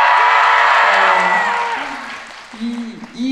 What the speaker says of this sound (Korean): 이 함성 오랜만에 듣는 것 같아요